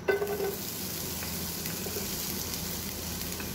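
Onion frying in a non-stick pan gives a steady, moderate sizzle with a soft stir at the start, then an even crackle alone.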